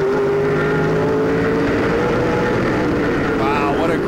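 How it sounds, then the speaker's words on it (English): The big V8 of a Castrol Edge Dodge Challenger stock car roars steadily down the backstretch during the 2011 Dickies 200, a loud, continuous onboard drone with a rising pitch near the end and commentary over it. "You can hear that big Dodge motor hauling the mail down the backstretch"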